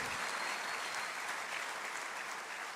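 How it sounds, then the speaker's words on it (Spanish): A church congregation gives strong, continuous applause, a steady dense roar of clapping hands heard from a distance and fairly soft overall, with no clear speech. "voy a pedirle que le dé un fuerte aplauso a Jesús"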